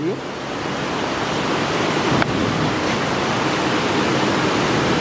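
Loud, fast-rushing water roars close by as a constant, dense wash of noise with no pauses.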